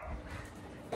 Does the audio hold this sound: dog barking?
yes